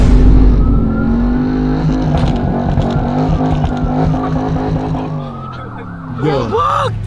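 Jeep Trackhawk engine with a burble tune revving steadily and loud up close, a sustained harmonic drone that falls away near the end before sharp pops and crackles; a voice briefly talks over it.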